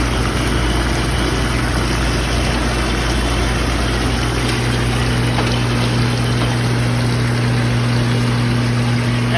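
Hot tub spa jets and pump run steadily, a loud continuous motor hum and rushing water churn with no pauses, nearby and unbroken throughout.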